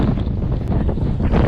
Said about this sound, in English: Alright, the wind is very strong here.